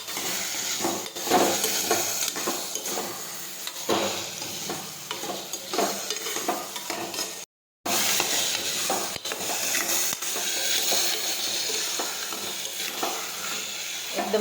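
Aubergine, potato, tomato and onion curry is stirred in a pot, with continuous sizzling and regular scraping and clinking of a spoon against metal, close by, broken once by a brief silence.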